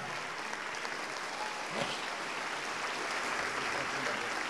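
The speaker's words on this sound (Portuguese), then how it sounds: "Vamos aplaudir mais, igreja." A church congregation applauds in a continuous, even wash of clapping, heard at a distance and fairly soft throughout.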